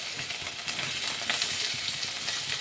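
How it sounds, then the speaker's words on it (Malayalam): Chopped onions hit hot oil in a pan for a Kerala-style beef curry, giving a dense, loud, continuous sizzle heard up close for a few seconds, with no voices. "നമുക്ക് അരിഞ്ഞു വെച്ചിരിക്കുന്ന സവാള ഇട്ട് കൊടുക്കാം"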